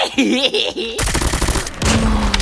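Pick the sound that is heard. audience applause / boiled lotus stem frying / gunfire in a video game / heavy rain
gunfire in a video game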